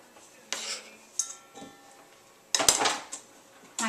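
Ingredients such as green peppers clatter into a dish of spaghetti, with a few sharp clinks of utensil against dishware, separated by quiet gaps and a louder burst of scraping and clatter near the end.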